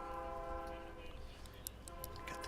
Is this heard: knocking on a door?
no